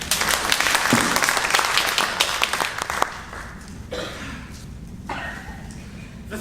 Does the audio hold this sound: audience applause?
yes